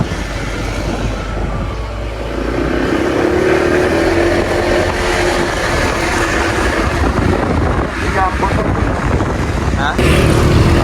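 A Honda ADV 160 scooter rides a highway toward Infanta, its steady engine drone and rushing wind filling the whole stretch with a fuller surge near the end, and a voice talks briefly over it.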